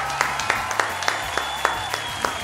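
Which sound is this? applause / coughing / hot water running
applause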